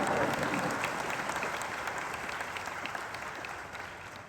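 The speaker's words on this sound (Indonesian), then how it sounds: "Kasih tepuk tangan bagi anak SMA." Audience applause in a university hall for a high school student, dense and continuous, gradually fading toward the end with no talk over it.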